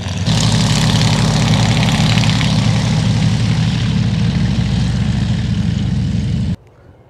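Loud, continuous propeller-airplane engine drone close by at a glider competition airfield, holding steady for several seconds before cutting off sharply.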